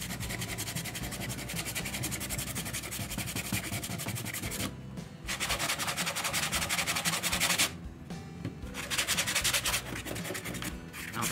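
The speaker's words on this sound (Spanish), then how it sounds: "Vamos a ver si se puede lijar un poco." Sandpaper is rubbed over hardened knot filler resin on wood in a steady, continuous scratchy rasp, close up, broken by two brief pauses.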